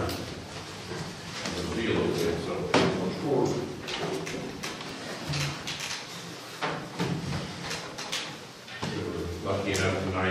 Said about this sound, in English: We're going to need to turn your chairs around because of lighting.